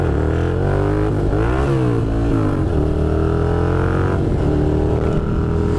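A Suzuki Gladius 650 motorcycle accelerates hard on an open road, its engine loud and close, pitch climbing through several gear changes with brief dips between rising revs.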